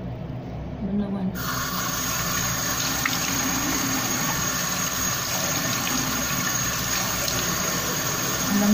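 Water splashes and runs while someone rinses their face after a skincare routine, a steady close wash of liquid sound with occasional faint voice in the background.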